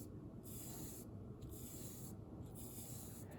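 Hand rubbing rough, sandpapery skin of a dissected shark, three soft scraping strokes in a steady rhythm, close and faint over a low background hum.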